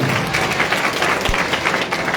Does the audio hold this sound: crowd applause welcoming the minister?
yes